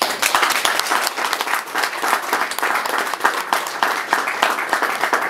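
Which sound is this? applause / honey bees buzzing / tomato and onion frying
applause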